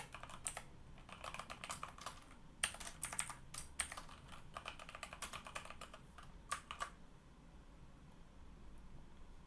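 Quick bursts of keystrokes on a computer keyboard, clicking in irregular clusters with short pauses, close and fairly quiet against a faint background hiss, with no talking.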